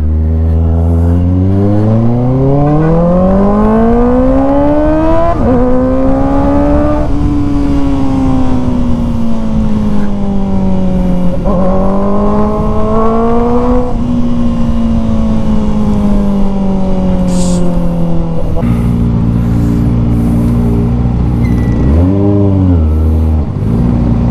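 A Kawasaki ZX-4RR motorcycle on a quick ride, its engine loud and close, revs climbing, holding and dropping in long sweeps with a sharp blip near the end, steady wind roar underneath and no talking.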